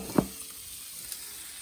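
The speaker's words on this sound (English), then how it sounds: "I took the fat and the bone off of that and I threw it in this cast iron skillet" Beef fat and bone sizzling in a cast iron skillet: a faint hiss with one brief, louder clunk near the start.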